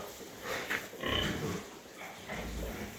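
A large farm pig grunts and snorts in several rough, irregular bursts close by, with low snuffling between them and a faint noisy background.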